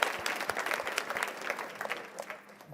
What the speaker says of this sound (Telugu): ఇంటికి చప్పట్లు కొట్టండి